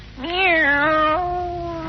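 A single drawn-out kitten meow, fairly loud and close, rising then sliding down in a long wavering cry. It comes alone, without talk, in a vintage 1949 radio comedy broadcast.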